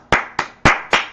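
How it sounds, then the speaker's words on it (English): Four sharp, loud hand claps ring out close by at an uneven pace, each a crisp slap with a short decay, with no talking. "this is a real clap"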